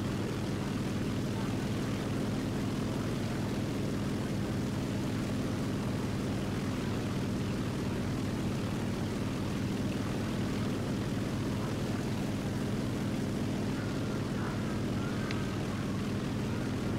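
Aircraft fly overhead in the War Thunder video game, a steady, dense engine drone that holds at an even level throughout with a low pulsing rumble underneath.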